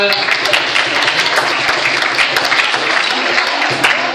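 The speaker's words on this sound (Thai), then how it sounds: "ถูกครับเสียงปรบมือหน่อย" Loud, steady applause fills a hall at an anti-drug talk for university and school students in Kanchanaburi, Thailand, many hands clapping continuously throughout with a voice faintly beneath.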